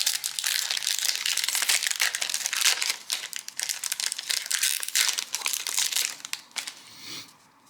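A Magic: The Gathering Kamigawa Neon Dynasty booster pack wrapper is torn open and handled close up, a dense, continuous run of crinkling and crackling foil that tapers to quieter rustling at the end.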